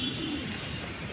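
A big-size racer pigeon gives a short, low coo, close by and steady against a faint background hiss.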